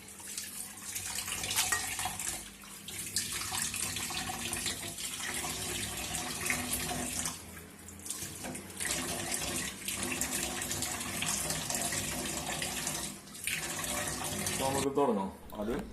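Beef is washed under a running kitchen tap. Water pours and splashes steadily and fairly close for the whole stretch, with small shifts as the meat is moved under the stream.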